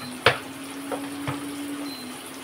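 Turmeric, Kashmiri chilli, coriander and cumin fry with onions in a pan, a quiet steady sizzle broken by a couple of sharp utensil knocks.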